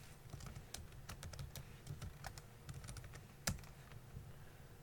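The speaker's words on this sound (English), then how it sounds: "I typed the wrong password, I guess." Computer keyboard typing a GitHub password, irregular close clicks spread across several seconds with one sharper key press near the end, over a low room hum.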